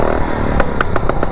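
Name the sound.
engine of a modified fast lawn mower revving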